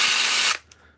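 Freeman F20 half-inch brushless impact wrench runs with a loud, dense, high-pitched motor whine for about half a second, then cuts off abruptly, leaving a faint click and quiet tail.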